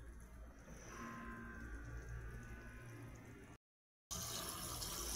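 Tap water runs steadily into a basin while boiled beef shank is rinsed, a soft continuous splashing flow that cuts out briefly near the end before resuming.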